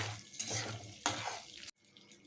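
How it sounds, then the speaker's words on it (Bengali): Whole cumin seeds tempering in melted butter in a pan for butter matar paneer masala: a close, steady sizzle with stirring scrapes that cuts off abruptly, leaving a quieter fry. "एबार फोड़नटाके भालो करे भाजबो"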